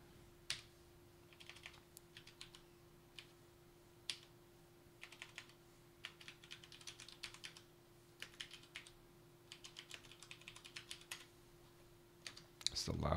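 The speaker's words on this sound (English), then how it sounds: "It's the loudest keyboard." Loud computer keyboard being typed on in irregular bursts of sharp clicks, fairly close, over a steady low electrical hum, with keystrokes running through the whole stretch.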